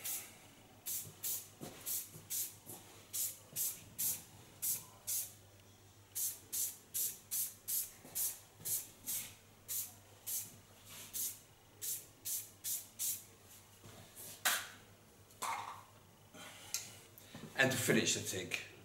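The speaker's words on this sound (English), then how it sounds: "Still have to use a little bit of the hairspray to fixate it." Short hissing bursts of hairspray come in quick, regular pumps, one after another for a long stretch, close and fairly loud, with brief rustling near the end.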